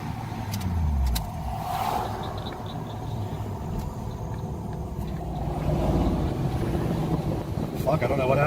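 A car stalled on a roadside shoulder after running out of fuel, its engine failing to run while wind buffets the microphone and traffic rumbles past nearby, with voices under the noise.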